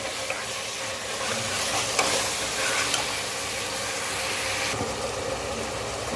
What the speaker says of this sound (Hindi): अब इसके अंदर मैं 1 बड़ा चम्मच भर के अदरक लहसुन का पेस्ट डालूंगा और इसे 2 से 3 मिनट अच्छे से भूनूंगा।